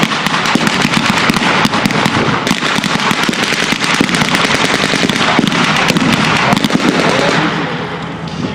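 A 75mm gun fires at a World War 1 reenactment amid a dense, continuous crackle of rapid small-arms fire and blasts, loud and sustained throughout before easing slightly at the end.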